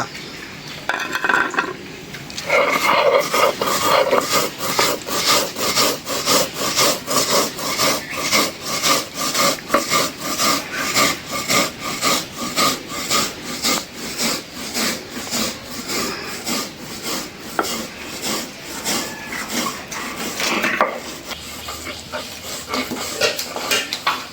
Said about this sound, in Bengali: এখন হবে কালো জিরা বাটা